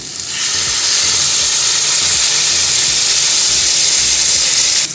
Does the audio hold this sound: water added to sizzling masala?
yes